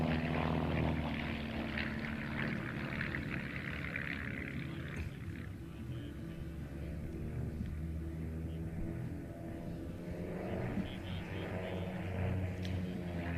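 Propeller aircraft engines drone loudly and continuously during formation aerobatics with smoke and head-to-head passes at the 2023 Joint Base Lewis-McChord airshow, the roar swelling and fading slightly as the planes pass.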